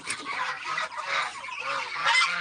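A heavy duck of about five to six kilograms gives loud, harsh, honking quacks several times in a row, close by, with no talking.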